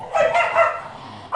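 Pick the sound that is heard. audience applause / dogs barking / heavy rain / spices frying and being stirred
dogs barking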